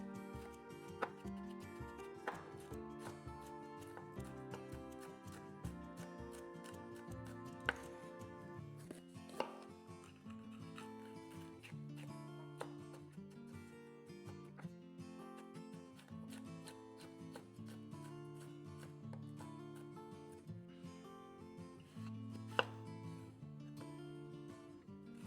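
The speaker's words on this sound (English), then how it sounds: "Now let's get these veggies chopped. And because I'm using both a red and an orange pepper, I'll use half of each." A kitchen knife chops red and orange bell peppers with a handful of sharp, irregular cuts on a board, set under steady background music.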